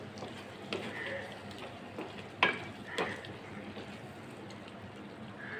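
Potato curry is stirred in a pan after kasuri methi is added, giving soft scraping and a couple of sharper clinks of a spoon over a steady low sizzle, with no talking.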